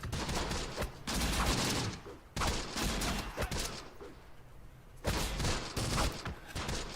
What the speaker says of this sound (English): I'm just going to keep on firing with the SDKFC.